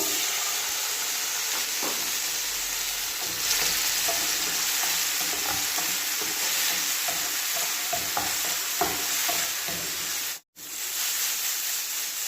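Tomatoes sautéing in a pan for a Filipino pechay and egg dish, with a steady loud sizzle and hiss and scattered scraping stir strokes throughout, briefly interrupted by a near-silent gap.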